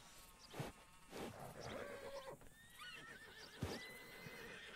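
A horse in the Red Dead Redemption video game whinnies and snorts at close range, with soft hoof clops and a faint buzz of insects around it. There is no talking.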